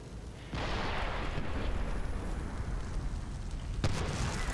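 A grenade explodes in the shooter game Medal of Honor Warfighter: a sudden heavy blast swells into a thick, rumbling roar that holds steady, broken by one sharp crack near the end.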